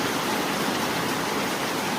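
Steady, dense morning rain in West Bengal hisses without pause, a broad even wash of falling water with no voices.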